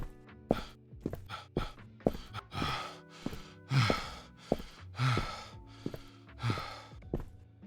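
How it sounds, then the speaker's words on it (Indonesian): Heavy, uneven panting of an exhausted player character in a horror video game, repeated ragged breaths and gasps with soft thuds, close and fairly quiet with no talking. "Nafasnya mulai berat, tidak stabil, seolah benar-benar kelelahan."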